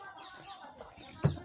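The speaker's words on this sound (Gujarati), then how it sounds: "ઓલું કુકડું ક્યાં ગયો?" A rooster gives a faint cluck near the end of a quiet outdoor stretch, one short burst above low background noise.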